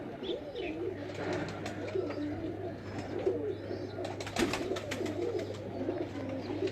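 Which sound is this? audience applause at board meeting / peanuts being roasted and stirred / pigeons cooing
pigeons cooing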